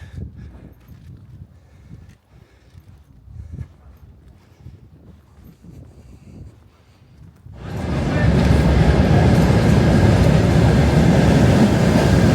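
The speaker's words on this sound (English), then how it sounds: "Right down there, I think there's a train coming." Quiet, scattered background noise at a station on the Riga–Kaunas line gives way after several seconds to a sudden loud, heavy rumble as a train rolls in and keeps roaring.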